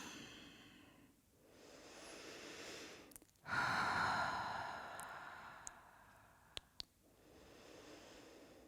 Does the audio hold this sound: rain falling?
no